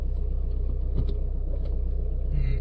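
Steady low rumble of a car engine idling just after the ignition is switched on, during a driving lesson; continuous and fairly close, with no talk over it.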